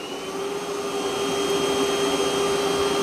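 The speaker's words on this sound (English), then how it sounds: "Lifting the mop pad so that it can vacuum." A Dreame L40 Ultra or Roborock Q Revo Curv robot vacuum runs with its mop pad lifted, giving a steady, loud, close whine with a bright tonal hum that holds evenly throughout.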